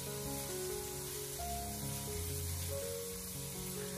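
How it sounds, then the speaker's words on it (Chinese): Minced chicken breast sizzles steadily in a hot wok over low heat, a soft continuous hiss sitting beneath louder background music. "开小火先把肉末给它炒散，炒至变色，给它炒出香味。"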